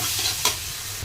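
Ginger garlic paste frying with chicken in a pan, a steady close sizzle with a brief louder stir or scrape midway, no talking.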